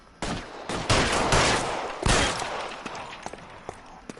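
Gunshots during a police scene in a video game: a rapid volley of loud, close shots in the first two seconds, then scattered sharper single reports tapering off.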